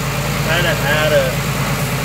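A tractor engine idles steadily nearby with a low, even drone throughout, while a person talks over it.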